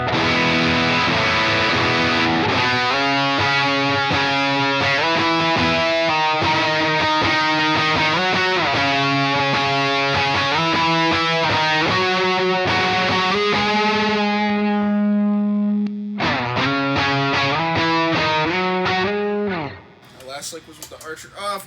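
An electric guitar plays sustained chords through an Archer overdrive pedal, giving a gritty, driven tone. The chords ring loud and continuous, then the sound thins and stops near the end.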